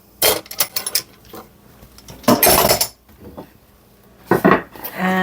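A metal garlic press, at least twenty years old, clatters and clicks while crushing garlic in a home kitchen, with three bursts of clanking handling separated by quiet pauses, close and fairly loud.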